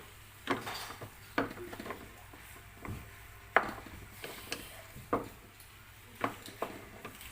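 Pancit bihon rice noodles with vegetables being mixed with soy sauce in a pan, heard as a series of irregular scraping and tapping strokes from a utensil, close and fairly quiet, with short pauses between strokes.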